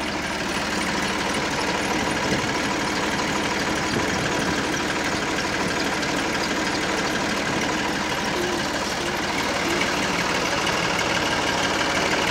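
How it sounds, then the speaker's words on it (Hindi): A Massey Ferguson 7250 tractor engine runs steadily while parked on a silo, driving a makeshift water-pumping rig through its PTO. It is a continuous, close, even diesel drone with a faint knocking vibration and no voices. "ट्रैक्टर सिलो पे चल रहा है, ट्रैक्टर सिलो पे है।"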